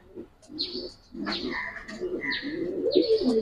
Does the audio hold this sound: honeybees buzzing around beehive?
no